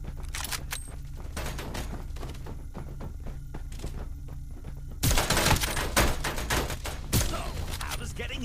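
Gunfire in the mobile shooter Farlight 84 crackles in rapid bursts and single shots over game effects and music, with heavier volleys after the midpoint and a voice speaking intermittently in between.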